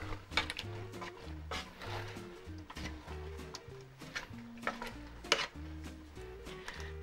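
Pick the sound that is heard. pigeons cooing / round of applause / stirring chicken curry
stirring chicken curry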